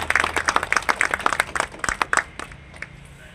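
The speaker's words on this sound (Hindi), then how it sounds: "जोरदार तालियों से स्वागत करें।" Lively applause from a crowd at an honour ceremony and seminar in the Agra civil court premises, with many hands clapping quickly for about two seconds, then tapering into a few scattered claps.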